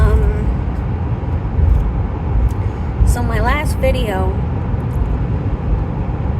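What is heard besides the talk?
car interior road noise while driving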